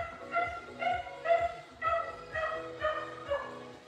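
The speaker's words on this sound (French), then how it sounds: "Ce chien m'exaspère vraiment." A dog barks repeatedly in short, evenly spaced bursts, fairly close and loud, during an at-home abdominal strengthening workout, with no talk over it.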